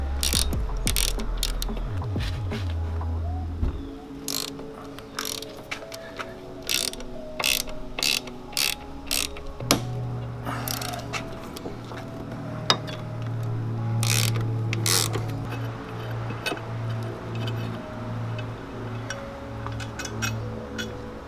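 A hand ratchet removes bolts from a Jeep Rubicon rear bumper, with long runs of rapid clicking bursts broken by pauses, plus metallic clinks and low mechanical hums, close up.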